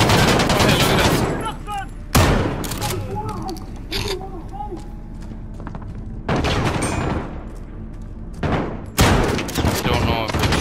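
Rapid automatic gunfire and heavy bursts ring out during a Call of Duty Modern Warfare campaign mission, with loud, dense volleys and brief lulls between them and a voice occasionally speaking underneath.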